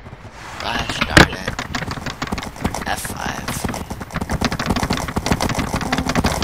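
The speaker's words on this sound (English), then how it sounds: "all you hear is the freaking horses" Horse hooves from the Minecraft video game clip-clop steadily throughout, with a sharp loud hit early on, mixed with a low engine-like hum and a voice talking over it.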